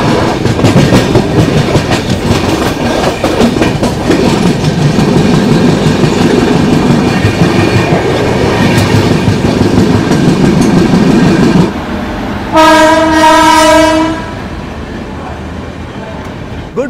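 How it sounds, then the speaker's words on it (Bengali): A passenger train on a long-distance Indian rail journey rumbles loudly along the track with steady clattering, then a sudden change in the noise near the end brings a brief piercing horn-like tone before the rumble eases. "ট্রেন ছুটে চলেছে তার নিজের গতিতে গন্তব্যের উদ্দেশ্যে।"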